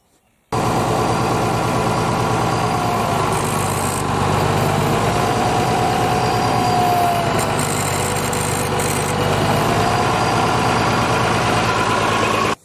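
Oliver 1850 Wheatland diesel tractor engine, one with a bad clutch and hydraulic pump, idling steadily and loud at close range, a continuous rumbling drone with no talk over it.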